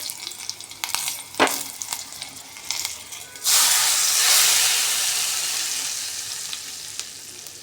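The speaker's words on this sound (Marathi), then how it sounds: "लसूण असा लालसर रंगावर आला की आपण हा तडका भाजीवर ओतून घेणार आहे" Garlic and a few dried red chillies sizzle in hot oil for a tadka, with a few sharp pops at first, then a loud, steady hissing fry that slowly eases.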